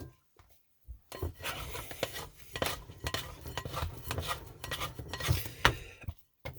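A dough scraper scrapes and smashes bread dough made from sourdough starter, flour and water, producing close, irregular rubbing and scraping strokes with soft thuds, starting after a quiet second.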